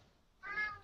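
A house cat gives one short, faint meow partway through, standing alone against a quiet room.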